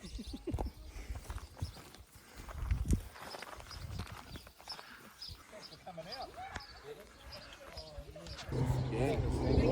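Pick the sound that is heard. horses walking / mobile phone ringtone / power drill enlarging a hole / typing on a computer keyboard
horses walking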